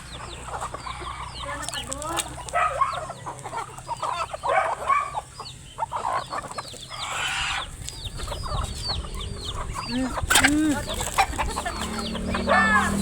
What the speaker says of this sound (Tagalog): May sariling mundo yung dalawang manok, oh.